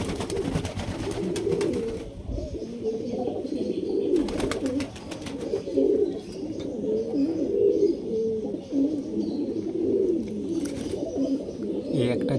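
Several pet pigeons, including white Jacobin pigeons, coo continuously in a loft in Kolkata, a steady overlapping chorus of low throaty calls close by with occasional wing flutters.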